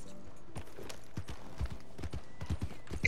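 Horse hooves clip-clop in a steady, uneven rhythm of sharp low thuds in a video game, moderately close, with faint background ambience and no talk over them.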